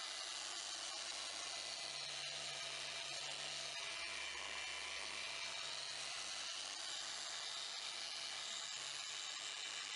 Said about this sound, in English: After tilting the machine, I'll even out the flatter areas of paint around the curved panels to even out the finish.